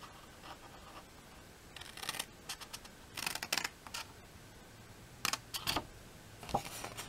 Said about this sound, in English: Next, I'm going to cut out 4 corners of the paper,